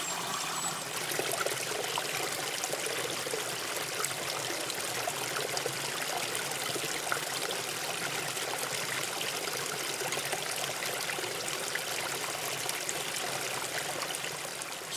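Shallow creek water flowing steadily around a dog standing in it, a continuous close babbling and trickling wash that runs unbroken and fairly soft throughout.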